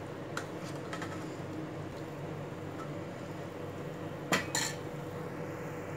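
Boiled chicken is lifted out of a cooking pot for a chicken and vegetable maqluba, with a low steady simmering hiss, faint early taps and a couple of sharp metal utensil clinks against the pot near the end.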